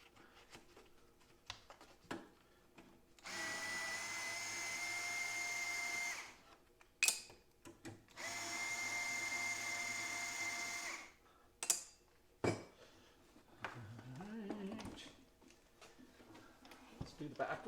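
A power driver whirs in two sustained bursts of about three seconds each as sheet metal screws come out of a buzz box welder casing, with clicks and a faint voice between the bursts.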